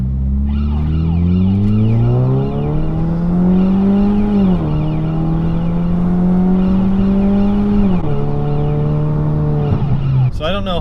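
Saab 9-3 accelerating hard through first and second gear, a loud close engine whine climbing in pitch, dropping briefly at each shift, then climbing again.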